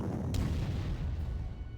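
Artillery fire in the strategy video game Panzer Corps, with a 10.5 gun firing; one sharp boom followed by a low rumbling tail, moderately quiet and alone.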